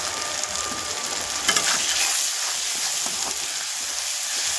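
Ground turmeric, cumin and coriander fry in a pan with a soft, even hiss, stirred now and then with faint scraping strokes, with no voices.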